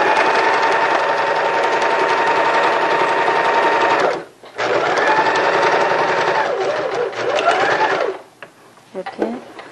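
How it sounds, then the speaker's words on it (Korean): A sewing machine stitches a curtain hem in two long runs of fast, even whirring, with a brief pause between and a short burst at the end; a voice talks over it. "여기에 이렇게 박으면 끝단 처리가 굉장히 예쁘게 깔끔하게 됩니다"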